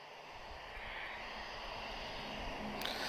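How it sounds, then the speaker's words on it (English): An Airbus A321neo long-range jet arriving from Madrid at Lisbon Airport produces a steady distant engine roar that builds slightly over time, broad and continuous, with no voices. "it's another A321neo long range arriving from Madrid"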